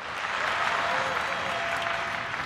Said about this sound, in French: Alors tout le monde applaudit?